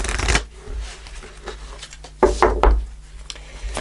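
An Angel Answer oracle card deck is shuffled up close, with brisk riffling bursts and soft knocks of cards settling, loud at the start and again near the end.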